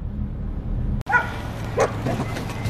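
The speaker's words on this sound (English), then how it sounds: "You can already hear all these dogs going crazy" Dogs bark and yip a few times in short bursts, somewhat distant, over a steady background rumble.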